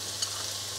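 Garlic stir-fries in hot cooking oil, a steady bright hiss and crackle of sizzling with a faint clink of a utensil near the start, no talking.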